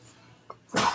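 A person's sneeze bursts out abruptly after a quiet moment, one short loud explosive blast close to the microphone.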